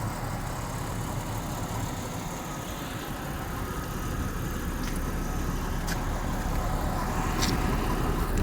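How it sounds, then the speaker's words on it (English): A car engine idles steadily at about 750 RPM, a soft, even low rumble that stays constant throughout with no revving and no voices. "Car idles really well, exactly where it should, about 750 RPM"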